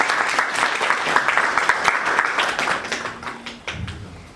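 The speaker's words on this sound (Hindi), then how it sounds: "आप लोग भी ताली बजा के स्वागत कर दीजिए।" Applause from an audience at the grand launch of Game King 11, many hands clapping steadily and fairly loud, thinning out toward the end with a low hum and a few scattered claps.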